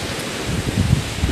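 A northerly wind blows across an icy, overcast shore at Billudden, gusting as a rough, rumbling rush with buffeting against the microphone, growing stronger toward the end, with no voices.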